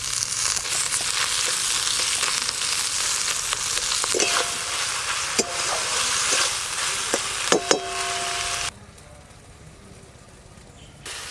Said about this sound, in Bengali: আদা রসুন পেঁয়াজ ভালো করে ভাজা ভাজা হয়ে গেছে, এবার টমেটো কুচি দিয়ে দেব।